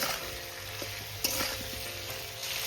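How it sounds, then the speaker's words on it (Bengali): Radish sautéing with salt and spices in a pan: a steady moderate sizzle with a handful of spoon scrapes and taps spread across it, close and even, no voices. "এবার আমি মূলোর সঙ্গে মশলাটাকে ভালো করে কষিয়ে নেব।"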